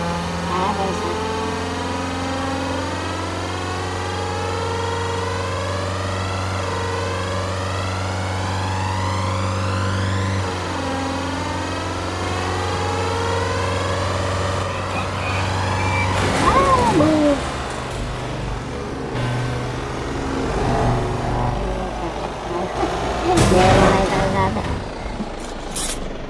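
A vehicle engine, apparently a Philippine jeepney, runs steadily at idle with a low droning hum, then grows rougher and louder with clattering bursts in the second half, with no talk over it.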